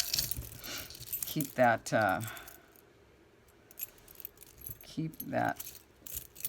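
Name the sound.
keys jangling while being handled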